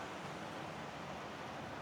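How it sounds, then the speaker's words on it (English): Ocean waves at a beach in Hua Hin, Thailand: a steady, broadband wash of surf that stays even and fairly soft the whole time, with no separate breakers standing out and no voices. "I'm just going to sit back and enjoy being by the beach and listen to the waves."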